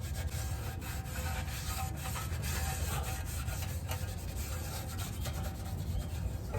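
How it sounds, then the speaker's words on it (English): A dirty rag wipes residue off a transmission part from a 2017 Ford F-250 during a filter and fluid change, giving a close, continuous rubbing and scuffing with no pauses. "I'm gonna clean it with the dirty rag first. Get all the residue,"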